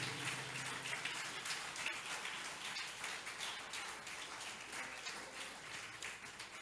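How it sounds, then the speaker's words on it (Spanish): Steady applause from a church congregation during a sermon, a dense wash of many hands clapping at moderate distance that holds evenly throughout, with a faint hum underneath. "Dele fuerte ese aplauso al Rey de Reyes y Señor de Señores"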